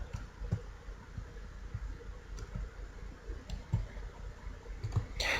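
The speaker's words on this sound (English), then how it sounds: "character moving freely with clicks on our keyboard" Keyboard keys clicked to move an animated web character, heard as sparse, faint single clicks at irregular intervals over a low background hum, with no talk.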